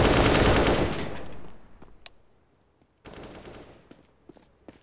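Rapid automatic gunfire in the video game CS:GO bursts loudly, thins into scattered single shots, then another burst starts up after a short pause.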